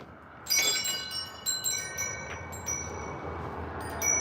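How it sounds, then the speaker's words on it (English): A bell rings several times, with bright metallic strikes and ringing tones over a low, steady background hum and no voices. "That's the bell ringing right now."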